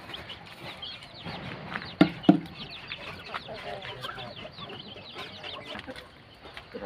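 Chickens clucking in a forest vegetable garden in the morning, a few short sharp calls standing out against a busy bed of rustling and other bird sounds, with faint voices nearby.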